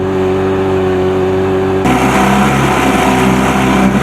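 An Evinrude 25 hp outboard motor fitted with a 9-inch-pitch propeller drones loudly and steadily on a moving boat, turning rougher and stronger after about two seconds.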